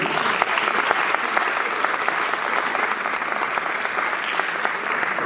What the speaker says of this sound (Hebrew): וגם להם מגיע מחיאות כפיים